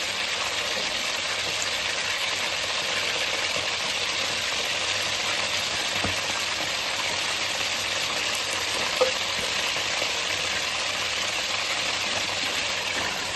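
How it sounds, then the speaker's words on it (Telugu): Fish pieces fry in hot oil for homemade fish pickle, a steady, dense sizzle and crackle that holds evenly throughout, close and fairly loud, with no talk over it. "ముక్కలు వేసిన వెంటనే కడకకూడదు. ఒక 10 నిమిషాల వరకు కడిగితే ముక్క చెదిరిపోతుంది కాబట్టి మంచిగా ఒక 10 నిమిషాలు వేగిన తర్వాతనే కలపాలి."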